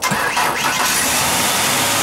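A Ford 4.0-litre six-cylinder engine cranks over and catches on a graphene battery module, turning into a steady loud running roar that fills the whole clip with no talking.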